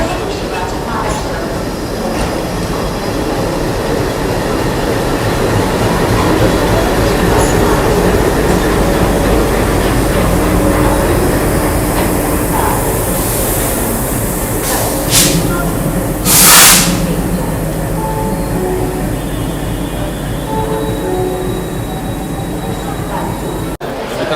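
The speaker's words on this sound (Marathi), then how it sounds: "तुम्ही बघू शकता गाडीचं अरायवल झालेले गाडी आता प्लॅटफॉर्मला" A train hauled by a WDG3 diesel locomotive arrives at a station platform on the Pune to Mumbai route. Loud, continuous rolling rumble with wheel noise and a brief high squeal near the end. A voice talks over it.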